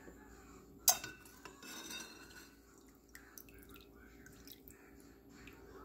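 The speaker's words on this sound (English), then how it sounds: "While the sugar is dissolving in the water, I'm going to remove the peels." Lemon peels lifted out of their steeping liquid for homemade limoncello, with one sharp metal clink against a container near the start, then softer scattered taps, drips and small kitchen handling noises, close and quiet, with no voices.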